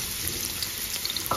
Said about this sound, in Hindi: और अब इसमें डालूँगी मैं ये इस तरह प्याज।